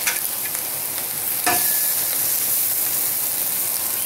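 Bacon sizzles steadily on a Blackstone 17-inch propane griddle, a constant crackling fry with a brief louder spatter partway through, close and alone with no talking.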